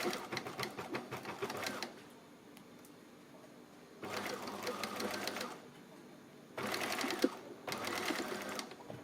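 An electric sewing machine stitches fur fabric for a fur bucket hat, running in three bursts of steady rapid whirring and needle clatter, separated by quiet pauses.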